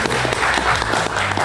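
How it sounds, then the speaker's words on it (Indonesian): A live comedy show audience applauds a performer being welcomed to the stage, a brief burst of dense clapping from a crowd close by. "Silakan kita kasih tepuk tangan untuk Jui Purwoto."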